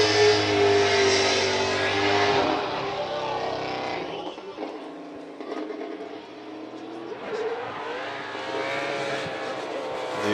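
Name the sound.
race car engine at Fuji International Speedway qualifying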